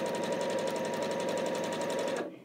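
A sewing machine runs at steady high speed stitching the ends of bias binding, a fast, even mechanical whir with rapid needle ticks that stops abruptly at the end.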